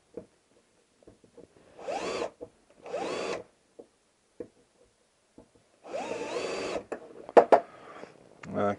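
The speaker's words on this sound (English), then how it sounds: "I'm just going to take that burr off" A hand countersink deburrs a drilled hole in a metal lock hasp: two short grinding bursts, a longer one, then sharp metallic clicks, close and loud between quiet gaps.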